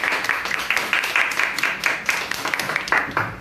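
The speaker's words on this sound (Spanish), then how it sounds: "Démosle un fuerte aplauso." A conference audience gives a speaker a warm round of applause, a dense, lively patter of many hands with individual claps popping out, steady and close for several seconds.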